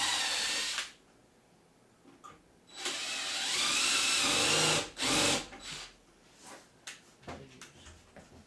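A power drill drives lag bolts through caster holes into a wooden board, with whirring bursts of several seconds under load, short pauses and ratcheting, clattering handling noise between runs, no talking.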